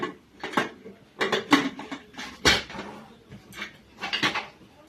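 A metal lid is fitted onto a pressure cooker with a series of close, sharp clanks and scrapes, several clustered metallic knocks spread across a few seconds, with no talking.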